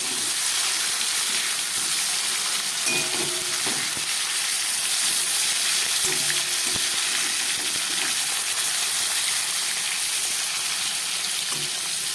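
Rita tengra fish sizzle in hot oil after being turned over, a continuous close frying hiss with faint utensil scrapes and no voices.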